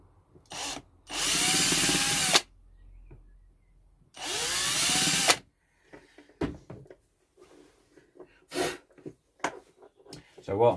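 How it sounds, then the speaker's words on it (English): A power drill whirs up in two bursts of about two seconds each, drilling small pilot holes for tacks in a small wooden chest, followed by quieter clicks and handling noises. "what I'm doing here is drilling some little tiny holes to start these little tacks"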